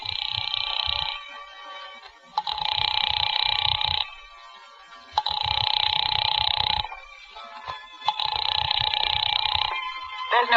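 An old telephone ring effect from a radio drama: four long, even ringing bursts separated by short silences, with a low buzzing hum under each ring.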